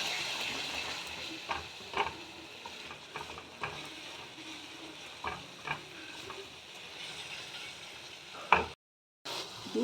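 Chickpeas fry with masala in a pan, a soft steady sizzle broken by repeated scraping stirs of the spoon, close and fairly quiet.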